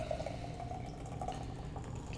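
A popsicle-style gose brewed with red currants and raspberry being poured into a glass, giving a faint, steady trickle and splash of liquid throughout.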